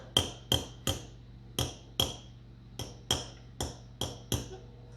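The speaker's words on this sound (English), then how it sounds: "Can you whisk the eggs real quick for me, please? We need to pre-whisk them for about a minute or two, just so they mix better." A fork beats eggs in a bowl, tapping out about ten sharp, evenly spaced clinks against the side, close and distinct over a quiet background.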